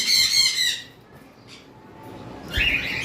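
A pet savelet lovebird gives a couple of sharp, shrill squawks, one at the start and another near the end, close by with quiet in between.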